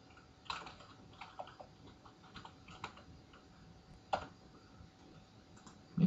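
Quiet clicks of someone typing a name on a computer keyboard, sparse and irregular keystrokes with short pauses between them, close and faint.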